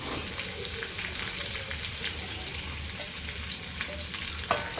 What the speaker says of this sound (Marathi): आता त्यात कैरी टाकली आणि मिक्स करून घ्यायचं